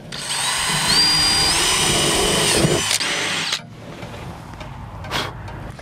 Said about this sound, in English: we'll drill these holes about 2 inches apart.